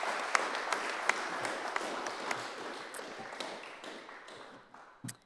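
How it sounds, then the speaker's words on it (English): Audience applause at the opening of a photography exhibit, a moderate patter of clapping hands that thins and fades toward the end, with a final sharp burst. "Give her a round of applause."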